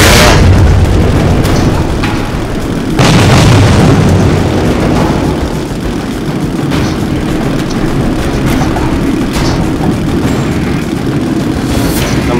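A tank explosion in the video game Metro 2033: a loud booming blast rolls into a heavy rumbling roar with a second burst a few seconds later, followed by sustained low engine-like noise.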